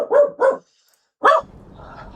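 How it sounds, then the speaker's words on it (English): Dog named Link barking in the background: two quick barks, a pause, then a third bark, moderately close, followed by faint low rumbling. "now you're gonna hear Link barking in the background a little bit"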